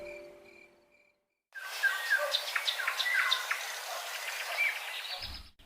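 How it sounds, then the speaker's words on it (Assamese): Birds chirping at dawn as an audio story effect: a dense chorus of tweets and calls rising suddenly after a brief quiet, moderately near and continuous, then cutting off abruptly. "চৰাই চিৰিকটিবোৰৰ চিঞাই থকা শব্দ"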